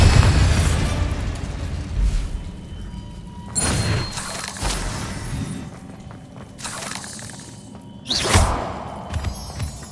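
Blasting spell explosions in the video game Hogwarts Legacy, several heavy booming bursts with shattering debris and whooshes, spaced a few seconds apart over a rumbling background.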